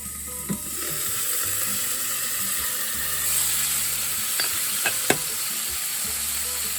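Chili meat being stirred and broken up in a pan after onion powder goes in, with a steady sizzle and frying hiss and a few sharp utensil clicks and scrapes against the pan, no voices.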